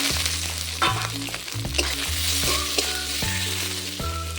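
Onion paste and cumin paste masala fries in a pan with a loud, continuous sizzle, close up, with stirring scrapes and a few clinks throughout and no talking.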